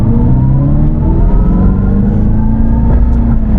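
An electric General Lee car in drag mode accelerates hard, giving a loud, steady motor whir with rising tonal lines that holds throughout, close and without speech.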